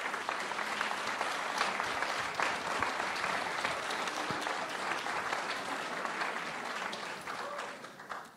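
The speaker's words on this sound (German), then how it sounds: "Applaus" An audience at a school panel discussion on the 2024 EU election welcomes a guest speaker with steady, moderately distant clapping that fills the room and fades slightly near the end.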